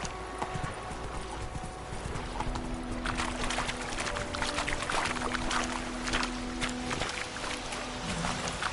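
Roach the horse clip-clops steadily in The Witcher: Wild Hunt, a continuous close run of hoofbeats with a faint tonal hum underneath and no voices.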